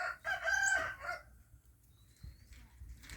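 A young rooster crows once, fairly near, its call fading into quiet rustling and faint background noise.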